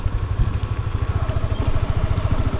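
A Honda CB300F motorcycle engine idles steadily after only a few minutes of warm-up, its low, even pulsing continuous and close by with a faint clatter and no talk over it.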